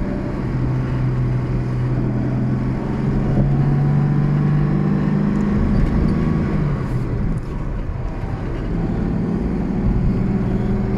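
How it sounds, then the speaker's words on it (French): A Jaguar MK2 340 saloon drives along, its engine droning loudly from inside the cabin, the pitch climbing and then falling away through a gear change before settling again. "Un passage de vitesse."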